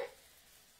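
Squash rostis sizzle in a frying pan over fairly high heat, a faint, steady hiss with a small clatter at the start and no talking.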